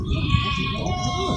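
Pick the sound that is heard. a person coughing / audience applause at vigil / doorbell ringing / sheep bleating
sheep bleating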